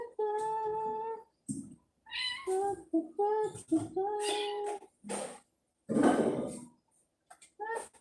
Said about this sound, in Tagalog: At pati yung pusa ay maingay.